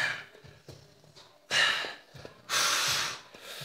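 Heavy, effortful breaths from someone exercising in a medicine ball workout, with a faint gasp and then two loud, forceful exhales about a second apart, close to the mic.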